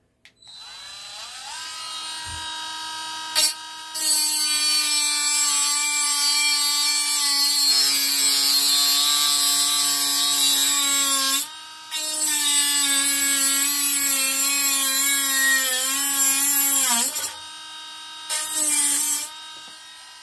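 A small power grinder works on metal in a hot, humid outdoor setting, running in long steady bursts with a bright, whining, harmonic tone that rises and falls as it loads up, stopping briefly between passes.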